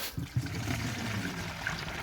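Organic-mineral fertilizer poured from a mug through a mesh strainer into a sprayer funnel for feeding grapevines, a steady close liquid gush and trickle running unbroken for a couple of seconds.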